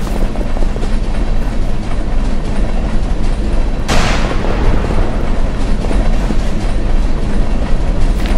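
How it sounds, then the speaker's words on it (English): A train rolls past in the Western video game Westbound, a loud continuous rumbling clatter with a sharp bang partway through, heard alone without talk. "Okay, there's a train."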